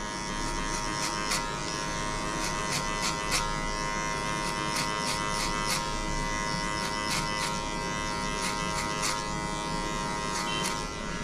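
An electric hair clipper buzzes continuously and steadily up close while cutting a low fade haircut, with brief bursts of clicking and snipping texture over the drone.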